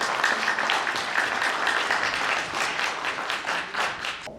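An audience at a book launch applauds to welcome author Jeong Yu-sun, with moderate, steady clapping that keeps going throughout without a break.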